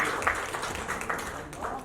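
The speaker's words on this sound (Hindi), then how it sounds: "जोरदार ताली काजल जी के लिए।" An audience at a Bhojpuri OTT platform launch event applauds actress Kajal Raghwani, with steady, fairly dense clapping throughout and an announcer's voice carrying over it.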